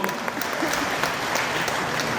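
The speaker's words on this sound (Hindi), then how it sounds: "उसके लिए तो जोरदार ताली बजती है" Hall audience applauds loudly for the performers at a commemorative cultural event, a dense, steady burst of clapping for a couple of seconds with no voices over it.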